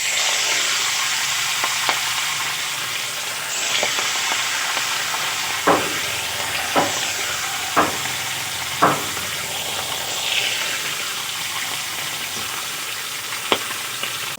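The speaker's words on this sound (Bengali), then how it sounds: "দেখো, এখন আমি এই মাছগুলো তেলে ভেজে নেব।" Silver carp fish pieces fry in hot oil in a wok, giving a continuous close sizzle and hiss punctuated by several sharp pops and clatters spread unevenly across the stretch, with no voices.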